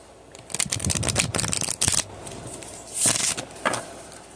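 Oracle cards are shuffled by hand in close, crisp bursts of riffling and slapping, with a brief pause midway before a few more quick shuffles.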